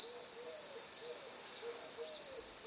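Steady high electronic beeping from a timing device during an ignition timing check on a 1955 Panhard Dyna Z1, a continuous tone with faint repeated chirps, close and alone without talk.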